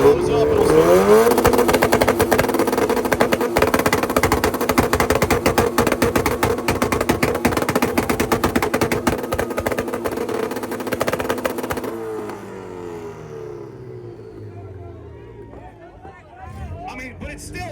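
A Honda Civic engine at an import rev battle, revving hard and holding a loud, sustained buzzing note with crowd chatter underneath, then cutting off sharply and dropping to a quieter idle as voices carry on.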